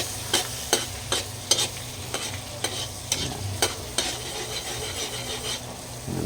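Garlic stirred and scraped in a frying pan, with a steady soft sizzle under repeated rhythmic scraping strokes of a utensil against the pan, close and fairly quiet.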